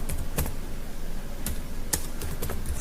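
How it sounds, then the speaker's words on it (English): A computer keyboard is typed on in short bursts of crisp key clicks, a few sharper strokes standing out against a low background hum. "press the enter key"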